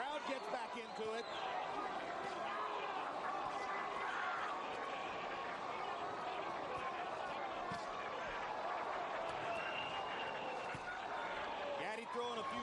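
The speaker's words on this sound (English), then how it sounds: "Crowd gets back into it." Boxing arena crowd at the Arturo Gatti versus Micky Ward fight roaring steadily throughout, a dense sustained wall of cheering and chatter with a ringside commentator talking over it.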